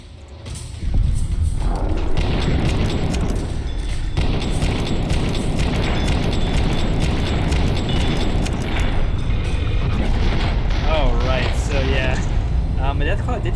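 Grenade blasts and combat in Fallout: New Vegas, dense thuds and booms running continuously and loudly across the whole stretch, with battle noise layered throughout and a voice talking over it.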